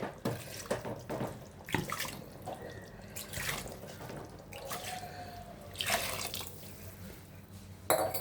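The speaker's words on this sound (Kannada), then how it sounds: "ಅದರಲ್ಲಿ ಆಲ್ರೆಡಿ ನೀರಿರೋದ್ರಿಂದ ಸ್ವಲ್ಪ ನೀರು ಹಾಕೊಳ್ಳೋಣ ಅದಕ್ಕೆ" Water poured from a tap-like stream into a pot of mutton cooking for biryani, a steady splashing trickle with scattered drips and clinks, close and fairly loud, with no talking.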